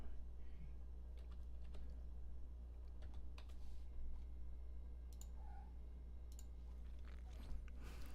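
Someone types on a computer keyboard, with steady, irregular clicks of moderate loudness over a constant low background hum and no talking.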